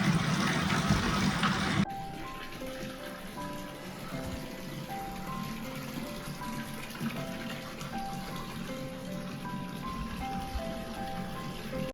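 A mountain stream rushes steadily during a trek break, a broad continuous wash of flowing water near the listener, with faint background sounds and no talk over it.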